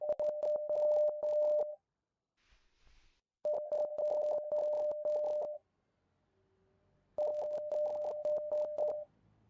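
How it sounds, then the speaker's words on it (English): Morse code in the horror game Rise of Insanity comes as three bursts of rapid on-off electronic beeps at one steady tone, separated by short pauses, loud and clear with no talking. "Is that Morse code?"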